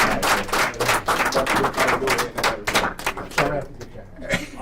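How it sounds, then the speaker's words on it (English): Audience applause for a speaker at a leadership forum on Marcus Garvey: loud, close, crackling clapping with some individual sharp claps standing out, fading slightly near the end. "How about another round of applause?"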